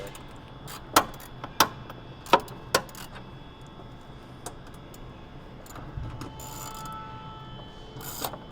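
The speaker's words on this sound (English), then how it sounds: "we're going to tighten them down with a 10mm" A ratchet with a 10mm socket tightens screws on the cross member during a cold air intake install on a 2006-07 Chevy/GMC Duramax 6.6L, giving a few sharp, close clicks spaced about half a second apart, then quieter handling noise.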